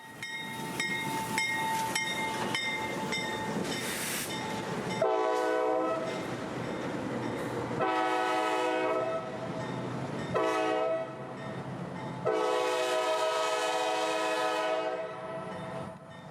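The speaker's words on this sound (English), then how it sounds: "phosphate trains like this B311, who will be bringing the port a fresh load of phosphate from Ridgewood" A CSX B311 phosphate freight train rolls past with its horn sounding in several long, loud blasts, steady rumble and wheel noise running underneath between the blasts.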